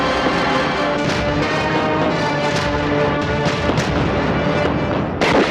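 Gunfire rings out in a dramatic Hindi film scene, a loud run of sharp, booming shots fired in quick succession over a dense soundtrack, ending with a final heavy blast.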